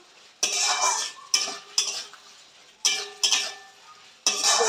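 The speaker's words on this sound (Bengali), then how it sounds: "এবার বেগুনটা দিয়ে আর একটু ভালো করে কষিয়ে দেবো" Eggplant is stirred into a fish curry with potatoes and bori in a pan, with about six firm scraping strokes of a utensil against the metal, each followed by a fading sizzle.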